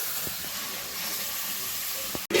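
Water poured into a hot pan of curry with turmeric and ginger, producing a steady loud hiss of steam that cuts off abruptly near the end.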